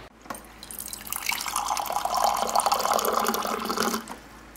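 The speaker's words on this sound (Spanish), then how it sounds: "Voy a echar agua aquí" Water splashes from a tap into a container to soak a makeup sponge, a steady close stream running for about four seconds before cutting off, with no talking.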